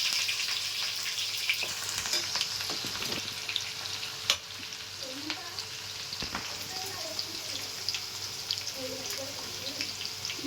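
Long-sliced onions, two large ones, frying in hot oil in a home kitchen for green chicken pulao, a steady soft sizzle with occasional stirring clinks and faint water sounds, no talking.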